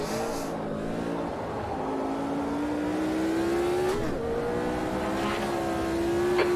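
An AMS2 Sprint Race Car in the sim racing game Automobilista 2 revs at Oulton Park, its engine note climbing steadily in pitch with a brief dip near the four-second mark, loud and continuous with no talk.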